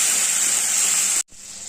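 A spice paste with a little cumin powder sizzles loudly in a pan, a dense, steady frying hiss that cuts out abruptly for a moment before resuming more quietly.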